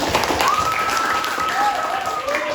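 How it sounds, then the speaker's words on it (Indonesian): Classroom audience clapping steadily and fairly loudly throughout, with a brief whistle-like tone rising over the applause. "Beri aplaus buat Fabian."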